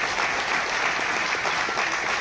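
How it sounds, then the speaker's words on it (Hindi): Dense, steady applause from an audience at a gathering, close and continuous throughout the short stretch. "तो एक बार जोरदार तालियां सर के लिए।"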